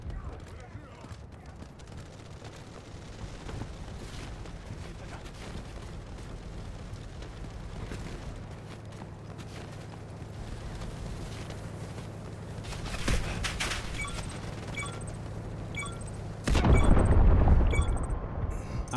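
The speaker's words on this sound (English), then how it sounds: "we just got blown the fuck up by a tank" Tank shell blast in the Delta Force video game, a sudden loud booming burst near the end that follows a low steady rumble of battle ambience and gunfire.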